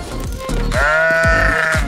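Sheep bleat in a loud, close, wavering cry that holds for about a second, with a thumping rhythmic beat underneath throughout.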